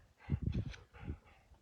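Hunting dogs on a pheasant hunt give a few short close snorts and whimpering huffs in quick bursts, then fall quiet, with no talk.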